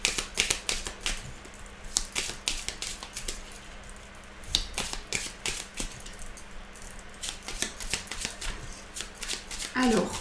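Petit Lenormand cards shuffled and drawn for a reading, a rapid run of crisp clicking snaps and riffles up close, with a voice speaking over them.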